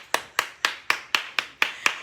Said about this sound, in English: Y'all give JJ a round of applause.